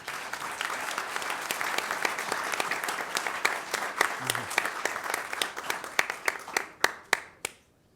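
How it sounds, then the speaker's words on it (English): An audience applauds honored school district staff at a recognition event, dense clapping that carries for several seconds, then thins to a few last scattered claps and fades out. "We can give these people a round of applause, please."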